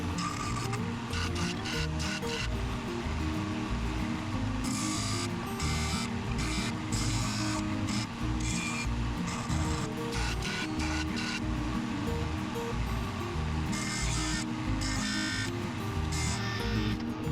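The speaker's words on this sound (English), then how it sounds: "I'm gonna bevel the edges on these pieces so that we can get a good weld." Metal edges are beveled for welding during front-end work on a 1949 Jeep Willys pickup. A steady, rough grinding hum runs throughout, with gritty scraping bursts that rise and fall, fairly faint, with no talk.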